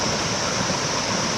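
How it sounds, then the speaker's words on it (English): Waterfalls cascade in a lush national park in New South Wales, a dense, constant rushing roar of falling water, loud and close, without any break or voices. "It's just this cascade of waterfalls, mountains, greenery."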